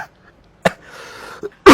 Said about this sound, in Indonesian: Aduh, saya batuk.